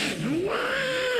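On a Malayalam comedy stage, a man imitates a cat's meow to signal another cat arriving. It is one loud, close, drawn-out meow whose pitch rises and then bends, voiced alone with no talk.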